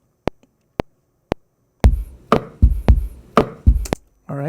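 A beat built from sampled kitchen sounds in Logic, with a kitchen-noise slice used as the snare: three sparse, evenly spaced clicks, then a dense run of punchy percussive hits in a tight rhythm.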